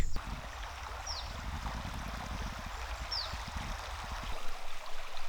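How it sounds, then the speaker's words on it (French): Shallow river flowing at low volume through a canyon landscape of cliffs, a steady soft rushing wash with faint trickles, heard alone without talk. "Voilà la rivière"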